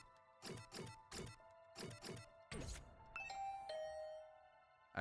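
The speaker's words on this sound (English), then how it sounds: "I rang the doorbell and could hear the bell ring on the other side of the door" A series of soft thumping knocks followed by a bright two-tone video game doorbell chime ringing out and lingering, faint and electronic-sounding.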